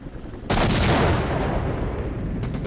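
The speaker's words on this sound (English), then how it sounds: "I want to stop whatever barrage is going on right there." Artillery barrage in the video game Flashpoint Campaigns: a sudden loud booming burst that leaves a dense, rolling roar of impacts fading slowly.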